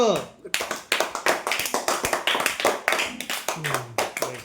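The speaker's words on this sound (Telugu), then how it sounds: "క్లాప్స్" Schoolchildren clap together in a quick, uneven burst of sharp hand claps lasting a few seconds, close by, with voices briefly heard alongside.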